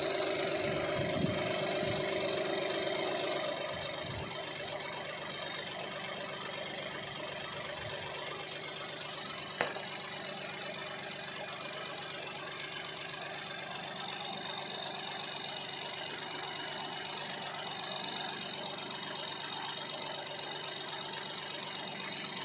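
A Mahindra TUV300 engine with close to 1 lakh on it idles steadily under the hood, a low, even hum with a fainter mid-range drone, louder for the first few seconds, then settling, with one brief click midway.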